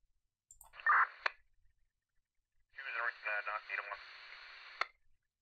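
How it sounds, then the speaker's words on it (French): Crackly police radio scanner bursts in the video game Keep Talking and Nobody Explodes: a short squelch and click, a pause, then garbled radio-filtered voice chatter ending in another click. "radio scanner de police"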